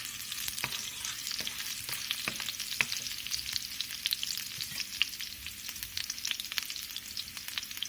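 Green chilies, cut small, stirred while frying in a pan for quinoa pulao: a soft, steady sizzle broken by frequent light scraping and clicking of the spoon, close and fairly quiet, with no one talking.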